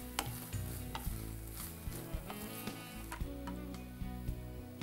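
Ingredients sautéed and stirred in a pan give a steady close sizzle with repeated scraping and clacking of a spoon against the pan, without any talk.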